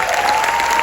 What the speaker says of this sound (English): if you'd give a big round of applause